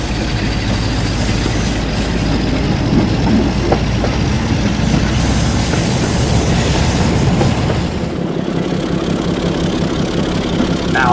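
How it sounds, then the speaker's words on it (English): A Class 47 diesel locomotive working hard on the Gloucestershire Warwickshire Railway, a loud, sustained engine thrash with a rumbling low end that holds throughout and eases slightly near the end. "listen to the thrash off this 47 at the Gloucester and Warwickshire."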